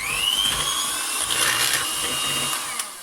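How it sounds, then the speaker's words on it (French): An electric whisk beats lemon cupcake icing made with powdered sugar toward a thick, firm consistency, giving a steady, loud motor whine that continues throughout, close up and with no voices. "Et là, on va fouetter jusqu'à épaississement complet."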